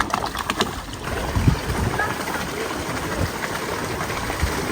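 A small rowing boat moves across a pond at a park resort in Dinajpur. Irregular paddle splashes and soft knocks sit over a steady watery background, with some faint voices.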